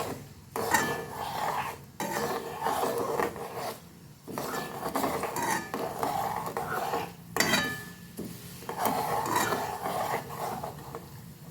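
Spoon stirring hot oil with fenugreek and black cumin seeds in a pan over a low flame, steady scraping and clinking strokes in repeated bursts with brief pauses, close and moderately loud.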